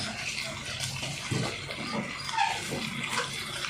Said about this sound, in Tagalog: maglalagay po tayo ng kaunting vinegar